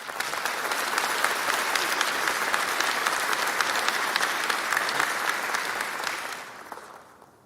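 Fire academy graduation crowd applauds an honoree, a full, even round of clapping that holds steady for about six seconds, then fades out quickly.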